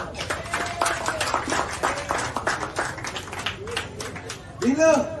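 Audience clapping at a political rally in Lumut as Datuk Nurul Hidayah is welcomed, a scattered patter of hands mixed with voices and a loud voice near the end.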